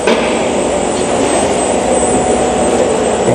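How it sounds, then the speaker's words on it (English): A drone flying indoors inside a PU roofing production building, its loud continuous rotor whine and high-pitched hum steady throughout over a broad roar of machinery. "I'm going to actually fly the drone inside here as well"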